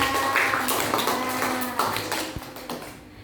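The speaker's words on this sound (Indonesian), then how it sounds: "Beri tepuk tangan untuk kelompok cerdas." Classroom of students clapping for a group, a brief uneven patter of hand claps fading over a few seconds with faint voices underneath.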